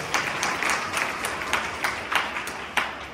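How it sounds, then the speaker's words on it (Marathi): An audience claps for teachers at a gathering, a steady wash of many hands with a loose, repeated rhythm of sharper accents running the whole time at moderate distance. "एकदा सर्व शिक्षकांसाठी आपण टाळ्या वाजवल्या पाहिजे सरांचं"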